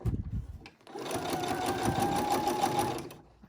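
A sewing machine stitching with a longer stitch length, a steady fast mechanical whirr lasting about two seconds, close and loud, with brief handling noises before and after.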